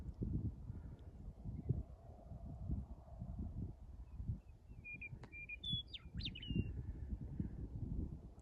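A western meadowlark sings in open Wyoming country, a few short bright whistled phrases standing out near the middle of the stretch above a steady low rumble of wind.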